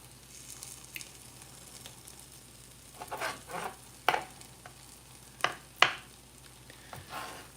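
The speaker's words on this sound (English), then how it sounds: "Chopping the chicken." Chicken being chopped in a home kitchen: a few sharp, separate knife strikes on a board, moderately close, over a quiet background with faint stirring and sizzling.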